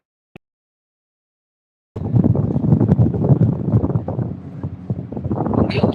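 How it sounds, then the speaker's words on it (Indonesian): Strong wind gusting over open sea, recorded from a boat, roars as a loud, steady rush against the microphone after a brief silence with one tiny click, swelling slightly toward the end. "angin yang kencang Bang Rio"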